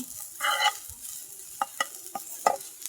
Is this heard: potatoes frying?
yes